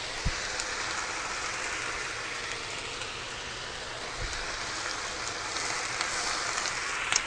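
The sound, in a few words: mushrooms frying in a pan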